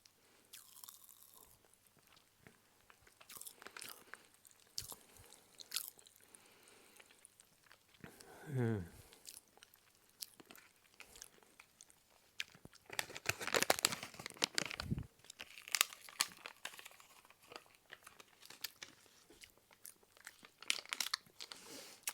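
Crunching and chewing of watermelon-flavored Warheads sour popping candy, with scattered crackles, crinkling wrapper sounds and a brief hum, close and fairly quiet.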